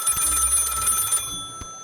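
A video game telephone rings in the game Lil' Guardsman, a bright electronic trill that repeats rapidly for about a second before cutting off, followed by a soft click.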